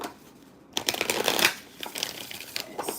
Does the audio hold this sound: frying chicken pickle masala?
no